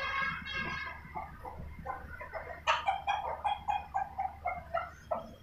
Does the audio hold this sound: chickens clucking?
yes